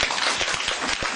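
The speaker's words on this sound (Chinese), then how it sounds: "掌声起来。" Audience applause fills a Chinese crosstalk comedy show featuring performers Wang Zijian and Chen Shuo, a dense, steady wash of many hands clapping at once, loud and continuous with no voices over it.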